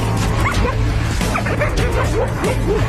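An Anatolian shepherd dog guarding sheep yips and barks excitedly in quick bursts, loud and close, mixed with whimpering and yelping over a noisy background.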